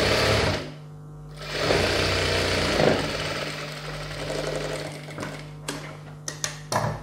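Sewing machine stitching a chudidhar top: a steady mechanical whir with fast needle clatter that slows and pauses briefly, then resumes, ending in a few separate ticks as the stitching stops.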